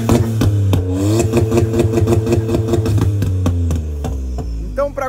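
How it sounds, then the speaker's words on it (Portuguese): A Volkswagen up! TSI with a stage 2 tune idles just after starting, a steady close engine drone with a repeating pulsing rhythm and a brief rev change near the end, heard alone. "mostramos o carro ligando, dando aquela esquentada e mostrando que tem dois tipos de ronco"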